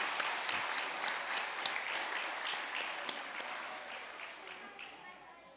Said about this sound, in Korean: 다시 한번 큰 축하의 박수 부탁드립니다